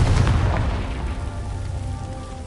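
A Confringo explosion spell from Hogwarts Legacy lands as a loud, deep boom that rolls away into a long fading rumble.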